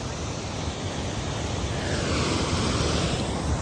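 Jamjir waterfall in the Gir forest, a dense, unbroken roar of falling water that stays loud and steady throughout, with no speech over it.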